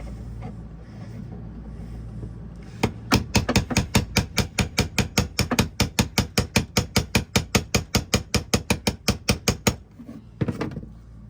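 Tightening the fuel pump retaining ring on a 2019 Polaris Ranger XP 1000 side-by-side: a quick, even run of about two dozen sharp metallic clicks or taps, close and fairly loud, over a low background hum, then a couple of final taps.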